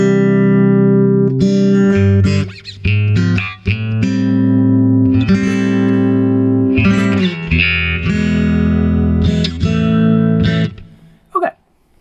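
Electric guitar played through a Meris LVX delay pedal with the gain turned down for only slight distortion, strummed chords and single notes ringing loudly and steadily with a little grit, no talking.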